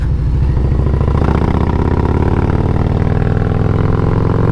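A car engine fitted with a Wood 22XE camshaft pulls hard and loud, accelerating steadily up through the gears onto an interstate with a deep, continuous drone and no talk.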